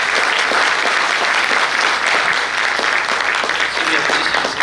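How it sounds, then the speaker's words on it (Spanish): Loud, sustained applause fills a hall at a social week conference honoring a lawyer, a thick continuous clapping crowd from start to finish with no break. "mostrémosle nuestro cariño, por favor, con un fuerte voto de aplausos"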